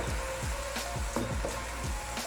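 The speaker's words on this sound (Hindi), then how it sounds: "अभी इसको मैं मज़ीद फ्राई करती हूँ" Chicken fries in a pan for dum biryani with a steady, close sizzle, along with faint scraping and stirring ticks at a regular pace.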